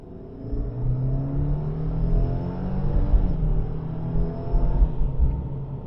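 A 2022 Subaru WRX with a CVT pulls hard from 20 to 60 mph in Sport Sharp mode, its engine note a steady, rising rumble heard from inside the cabin, with no talk over it.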